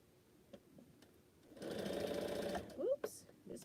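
A sewing machine runs steadily for about a second, stitching together quilt pieces, then stops, followed by a few small handling knocks and a brief voice.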